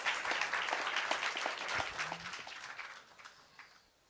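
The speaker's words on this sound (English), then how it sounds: "Give him a big applause." A tech summit audience applauds a startup team from South Korea, a moderate burst of clapping in a hall that tapers off and fades toward the end.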